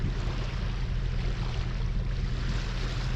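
A sailboat motoring back across La Ciotat bay under engine power gives a steady low engine drone with constant water rush and wind noise, even and unbroken throughout.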